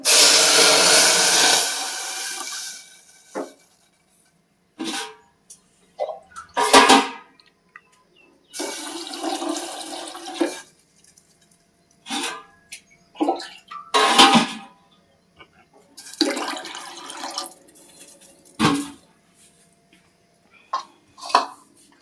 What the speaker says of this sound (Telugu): ఇందులో వాటర్ వేసుకుని ఉడికిచ్చేసుకుందాం.